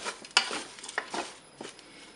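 Frozen fries stirred with oregano and garlic powder inside a Cookeo multicooker, heard as a short run of close scraping and rustling strokes over a faint sizzle, with no talking.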